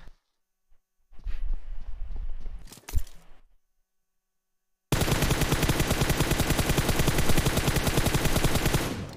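Automatic gunfire in a video game hammers at an enemy's shield: a brief burst of shots and clatter, a pause of silence, then a loud, continuous rapid stream of bullets.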